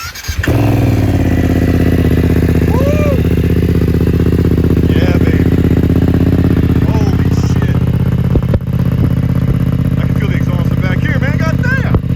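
A BMW F900R motorcycle with an Akrapovic carbon slip-on exhaust runs close by, its loud, steady engine note holding throughout with brief blips and a short dip near the end.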